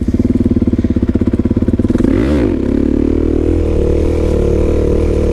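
A motorcycle engine drones loud and close during a wheelie, its pulsing throb smoothing into a steady hum as the pitch dips and recovers with rear brake use.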